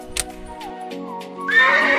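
A red toy horse plays a few steady electronic tones, then a loud, bright whinnying neigh rises at the end.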